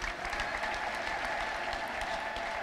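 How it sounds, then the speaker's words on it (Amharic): Sustained applause from a church congregation, many hands clapping in a dense, even wash that holds at a steady level from start to finish. "ለጌታ እንደገና አጨብጭቡ ዛሬ"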